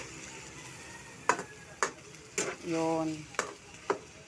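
A spoon knocks and scrapes against a pan while chicken and vegetables seasoned with soy sauce are stirred, giving several sharp taps over a soft sizzle, with a brief tonal clink in the middle.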